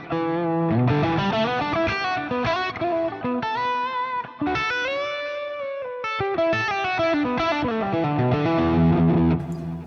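Electric guitar played through a DS1 distortion pedal into an amp's crunch channel, modeled in a Fractal unit, with a steady run of distorted melodic lines and sustained notes, loud and alone.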